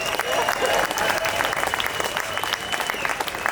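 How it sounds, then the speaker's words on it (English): A crowd at the Big Northwest Car Show at Portland International Raceway applauds a car owner, the clapping steady and sustained from many hands, with some cheering and a voice mixed in. "Round of applause for JR."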